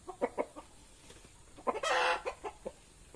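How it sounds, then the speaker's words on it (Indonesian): Short clucks from a Siamese rooster repeat in loose bursts, broken by one louder, harsher squawk in the middle; fairly close, with no talking. "Beginilah bapak ayam dari anakan-anakan ayam siamnya"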